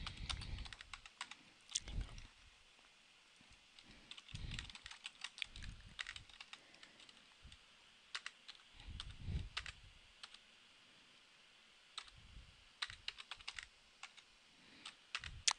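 Quiet, close typing on a computer keyboard while tabbing between form fields, with irregular bursts of key clicks and short pauses.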